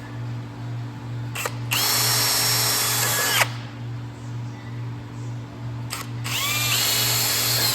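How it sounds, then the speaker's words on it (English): A power drill bores 1/8 inch holes for clecos while building a custom boat center console, two separate bursts of high whining spin, each a couple of seconds long, loud and close over a low steady hum. "Now I'll just drill it with 1/8 inch."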